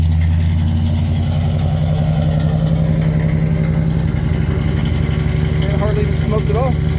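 A Chevrolet squarebody truck engine runs steadily at idle with a deep, continuous low rumble after a new gas tank install, a voice talking briefly over it near the end.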